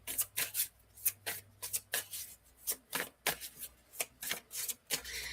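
Tarot cards being shuffled by hand, a steady run of crisp riffling flicks and soft paper rubs at close range, repeating in quick bursts with no voices.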